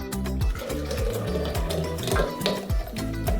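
A blender whips milk and fresh mint for a melon milkshake, producing a loud, continuous motor churn with a fast, regular pulsing throb that stays close and steady throughout.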